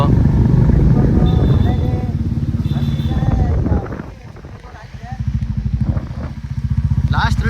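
A motorbike rides through the rain, its engine droning steadily and dipping briefly near the middle, with people talking over it throughout.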